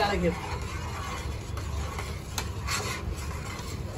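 Salt being stirred into a simmering sundakkai kara kuzhambu in a pot, a soft continuous scraping and rubbing with faint sizzle, steady and close throughout.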